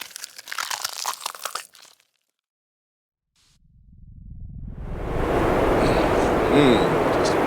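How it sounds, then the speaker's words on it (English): A creature is cut open in a graphic film scene, with wet crunching and tearing that swells from silence into a loud, sustained, close mass of sound after an opening burst of crackling noise. "They cut the creature open."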